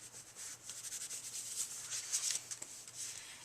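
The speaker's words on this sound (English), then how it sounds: "give it a good rub." A paper card for a scalloped-edge craft being rubbed firmly by hand: quick, close, dry scratchy strokes in an uneven rhythm, with no talk.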